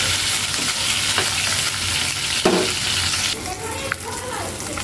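Hilsa fish frying in mustard oil, a loud, dense, continuous sizzle close by with occasional spatula scrapes and stirring.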